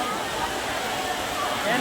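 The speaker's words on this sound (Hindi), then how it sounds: "चलो पानी देखो गिर रहा है वहाँ से।" Steady broadband rush of water falling at Kakolat waterfall, a continuous even roar filling the scene from start to finish, with a crowd present at the site.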